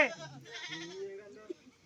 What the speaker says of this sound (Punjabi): ਦੇਸੀ ਬੱਕਰੀ ਹੈ ਕੋਈ ਅੰਬਰਸਰੀ ਨਹੀਂ ਹੈਗੀ